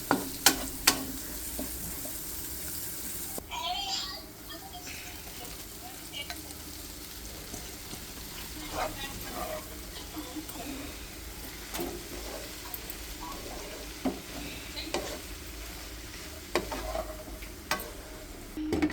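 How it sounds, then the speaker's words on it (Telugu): Spinach and chilli powder stir-frying in a pan, a steady close sizzle with scattered clinks and scrapes of a spoon against the metal, no voices. "కారం వేగిన తర్వాత పాలకూర దానిలో వేయాలి"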